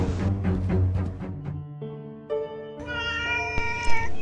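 Cartoon cat crying for its lost kitten, a series of drawn-out, wavering meows rising and falling in pitch, close and fairly loud, several calls in a row with no talking.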